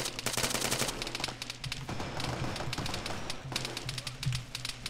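Rapid machine gun bursts crackle in ArmA 3 jungle combat, sharp repeated volleys close and loud with short pauses, in a dense fusillade with no talk.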